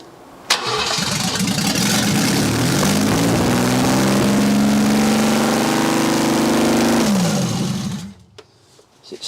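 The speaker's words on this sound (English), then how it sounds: "It's hard to tell if that's over revving." A BMW engine from a barn find runs very loud without its exhaust connected, revving up and holding a high, rasping pitch for several seconds before dropping back and cutting off.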